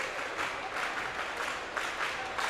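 Spectators clap in a high school gym during a volleyball match between the Lady Mules and the Hamilton County Lady Foxes, a steady, fairly faint wash of applause with slight surges throughout.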